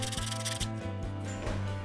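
Rhythmic back-and-forth sanding strokes, close and raspy, repeating at a quick steady pace over a low mechanical hum.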